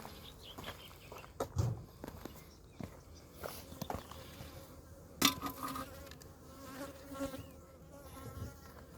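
Honeybees buzz at an opened beehive being smoked, a low, faint hum under scattered knocks and clatter of handling and footsteps.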